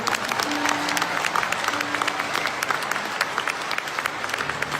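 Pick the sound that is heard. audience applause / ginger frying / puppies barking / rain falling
audience applause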